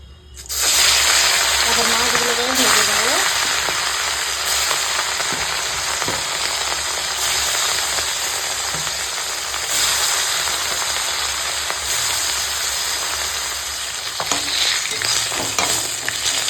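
Katla fish, rubbed with salt and turmeric, fries in hot mustard oil, giving a loud, steady close sizzle that fills the whole stretch with faint clatter and stirring now and then.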